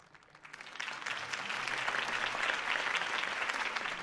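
A crowd in the Batman: The Telltale Series video game breaks into applause, swelling quickly from quiet into sustained, dense clapping and cheering that carries on evenly.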